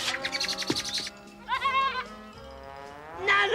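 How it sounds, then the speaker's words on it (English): A billy goat bleats in several wavering cries, loud and close, separated by short pauses. "The billy goat's eating it for his dinner."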